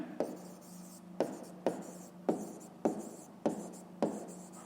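A pen writes by hand on paper, heard as soft, steady scratching strokes broken by regular taps as each stroke begins, close up and quiet, repeating about every second during a maths exercise.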